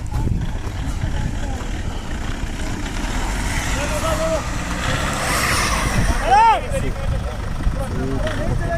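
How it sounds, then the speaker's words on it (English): A car stuck on the snowy Sela Pass in sub-zero cold, its engine droning steadily and revving up near the end, with voices murmuring in the background. "Oh god, seems like this car got stuck."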